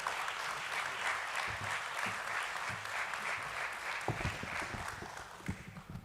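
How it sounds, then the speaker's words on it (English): An audience at a listing ceremony for INOX India Limited at BSE gives a round of applause, dense clapping that holds steady and then thins toward the end, with no talk over it. "Let's welcome him with a round of applause"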